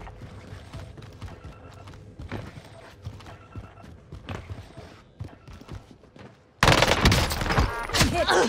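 A PPSh submachine gun fires in a Rebirth Island video game match, in rapid rattling bursts among scattered game effects. The sound then jumps to a loud, dense barrage of gunfire near the end.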